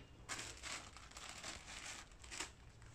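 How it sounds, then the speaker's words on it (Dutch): Paper is handled while making a static blueprint print, giving soft steady crinkling and rustling with a few louder crackles over three seconds, close but quiet and without talking. "Stukje papier."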